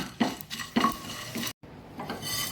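Cashew nuts dry fried in a pan for an egg pepper fry, stirred with a spatula that scrapes and clinks against the metal in short bursts, with a brief pause partway through.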